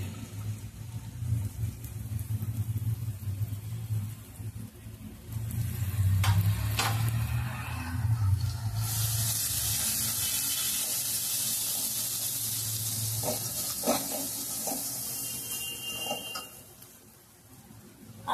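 Fish masala sizzles in a pan for a rawas fish curry, a steady broadband frying hiss with scraping stirs partway through and low hum beneath, fairly close, with no talk.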